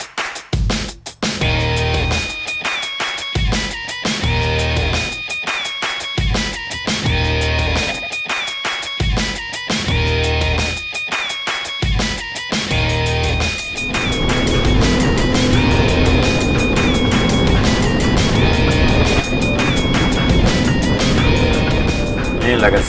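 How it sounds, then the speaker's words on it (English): A 32 Edgewater boat cruising at 35 to 40 mph toward a sandbar, loud steady engine and hull rumble with wind and water rush, music playing over it and people talking. "we'll be cruising about 35 to 40 miles an hour on the 32 Edgewater"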